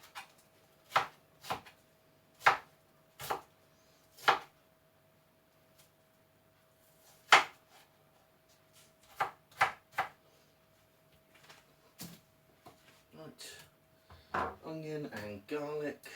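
Knife chopping vegetables on a cutting board in a home kitchen, likely onion and garlic: a series of sharp, separate knocks spaced about a second apart, then quicker chops near the end, fairly close and clear with no talk.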